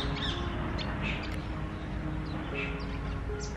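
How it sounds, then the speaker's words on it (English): A bird chirps outdoors in short, scattered high calls, a few distinct notes spread over a dense, steady background of ambient noise. "How cute is that bird?"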